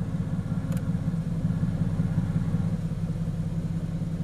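A Mercedes-AMG GT S in Sport Plus mode with the window down, a steady deep exhaust burble, close and loud and continuous throughout, with no one talking.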